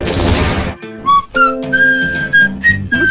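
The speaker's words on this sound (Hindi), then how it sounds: "अलग अलग धुनों पर सीटी बजाना बहुत पसंद है" A girl whistles a short, melodic tune with clear sustained notes and pitch jumps, loud and close, following a burst of noisy rustling at the start.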